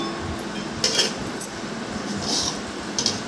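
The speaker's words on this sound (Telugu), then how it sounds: "గంటతోటి కలియబెట్టుకోవాలి." A metal ladle stirs curd in a pot for a kushka recipe, giving a few faint, scattered clinks and scrapes against the pot over a quiet kitchen background.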